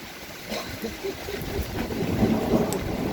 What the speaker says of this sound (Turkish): Tabii rüzgar esiyor. Buraya bile getirdi üzerimize balkona yağmuru.